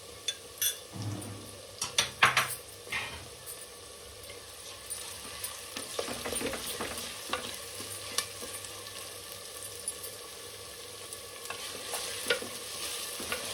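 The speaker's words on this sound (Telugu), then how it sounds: "ఒక నిమిషం అల్లం వెల్లిగడ్డ ఫ్రై కావాలి నూనెలో" Stone-ground ginger garlic paste frying in oil in a pan for a vegetable curry: a steady sizzle broken by clattering spoon knocks and scrapes against the pan, busier at the start and then settling.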